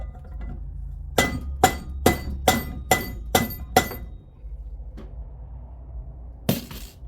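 Seven sharp, evenly spaced hammer whacks ring out during assembly of a 1904cc VW shortblock engine, each a bright metallic strike, followed by a faint tap and one final hit after a pause.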